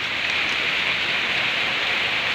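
Steady rain pours down near an outdoor fish tank setup, a dense, continuous hiss of drops striking surfaces, loud and close with no pauses.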